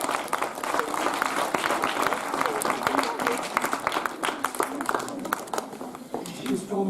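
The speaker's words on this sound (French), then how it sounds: "vous pouvez les accueillir et éventuellement les applaudir aussi" An audience at a Bastogne commemoration claps for veterans, a sustained spread of hand claps with voices and chatter mixed in throughout.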